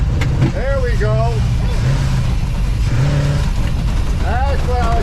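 A 4x4 Willys wagon's engine runs loud and close, a steady rough rumble with rising and falling revs, mixed with squealing brake-like tones and intermittent talk over the top.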